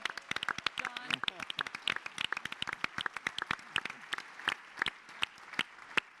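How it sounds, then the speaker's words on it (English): A room of conference attendees at a leadership forum applauds staff members, giving sustained, dense clapping that thins toward scattered individual claps. "applaud all of the staff members who are here in the room today"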